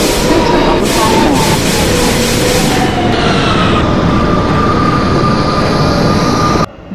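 An R160 Siemens E express subway train in a train simulator rumbles loudly at close range with a steady roar, squealing wheels and a high whine, ending abruptly.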